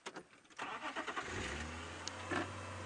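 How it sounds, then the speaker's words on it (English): A safari vehicle's engine roars up and holds a loud, steady revving drone close by, with a low rumble sustained beneath it for several seconds. "That's a very loud revving noise this car is making."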